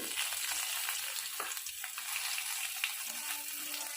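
Garlic paste frying in a pan gives a fine, even hiss throughout, with a few faint crackles and light ticks, quiet and close with no talking.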